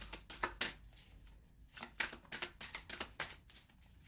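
Tarot cards being shuffled and drawn, heard as a quick, fairly steady run of soft riffling flicks and slaps, close and quiet, with no talking.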